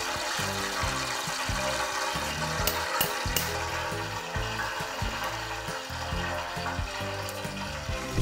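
Shiitake mushrooms crackle in hot oil during a second deep-fry for mushroom tangsuyuk, a steady close sizzle with no talking.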